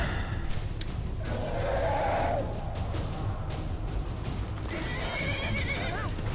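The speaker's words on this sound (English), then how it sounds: "My horse and Serana are fighting" A horse in the Skyrim video game whinnies loudly amid combat, with a long neigh near the start and another later, over hoof clops, thuds and steady background game noise.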